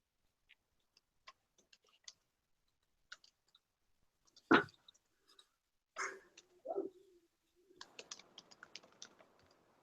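Sparse, quiet clicks of keyboard typing come in scattered bursts, with a few louder taps and a short run of rapid keystrokes near the end, against an otherwise silent background.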